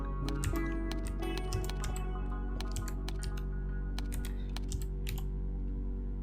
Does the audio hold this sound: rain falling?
no